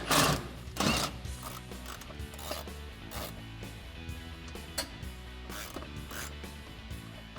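A socket ratchet with a 16mm socket clicks in quick bursts while loosening bolts on a rear bumper bracket of a Jeep Wrangler JL, close and fairly loud with brief pauses between strokes.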